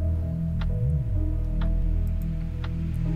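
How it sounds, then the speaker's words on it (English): Clock ticking on the moon in the video game You left me, a 12-hour timer, gives steady, crisp ticks about once per second over a low, sustained droning music bed. "On the moon, a clock, a 12-hour timer."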